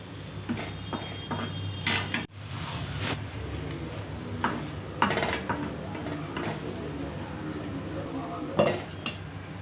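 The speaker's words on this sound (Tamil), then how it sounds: "நல்லா கிளறி விடுங்க." Soft kesari stirred in a pan after sugar goes in, repeated close scraping and clinking of a spoon against metal over a low simmering sizzle.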